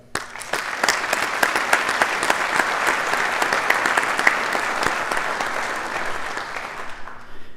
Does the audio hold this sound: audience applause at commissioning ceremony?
yes